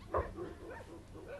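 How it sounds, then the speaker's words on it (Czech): A female dog at a dog show gives a single quick bark or yip early on, faint and close, with a soft low murmur behind it; the scene is from a 1972 Czechoslovak comedy film. "To je moc krásná čubička, moc se mi líbí."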